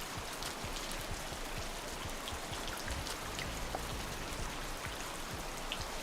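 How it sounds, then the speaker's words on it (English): Steady, rushing waterfall in the video game Rain World, a dense continuous roar of falling water with scattered splashing droplets, moderately loud and unbroken throughout. "It's the waterfall."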